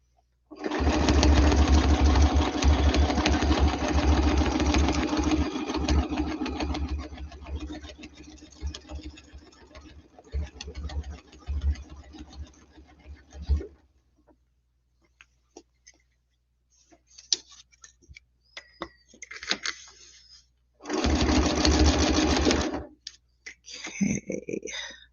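Close up, a sewing machine stitches quilt blocks, running in a long steady burr for about thirteen seconds, then a few short stitch bursts and clicks, and another steady run near the end.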